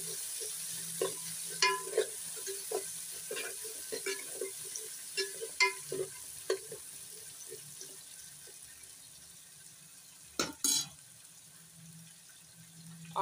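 Chopped onions sautéing in a pan, a soft sizzle under scattered scrapes and clinks of a spoon stirring, with a couple of louder knocks near the end.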